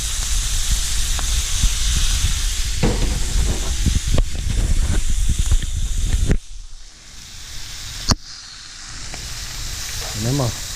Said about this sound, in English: So I'm gonna go ahead and put the cauliflower in there.